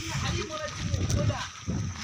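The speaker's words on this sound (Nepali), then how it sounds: "यहाँ खोला छ।" Stream water splashes and sloshes steadily close by, mostly beneath continuous talking voices.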